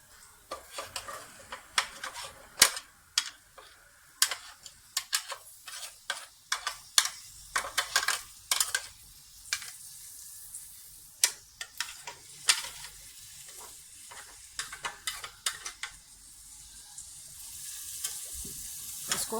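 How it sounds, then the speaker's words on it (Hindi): Garlic and vegetables stir-fried in a wok over a medium flame, with a soft background sizzle broken by frequent sharp clinks and scrapes of a utensil against the pan, close and without talk. "इसी लहसुन में हमने अब सब्जियां मिला देनी हैं।"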